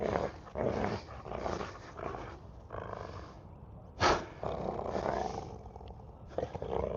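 A dog named Bolt growls and roars steadily while tugging on a rope toy in play, loud and close, with one sharper burst partway through.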